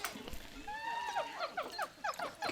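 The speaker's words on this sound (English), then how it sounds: "And now we'll put the bush dogs back." Bush dogs in the Planet Zoo video game make a rapid series of high, chirping yips and whines, close and fairly loud, with a brief low sound at the start.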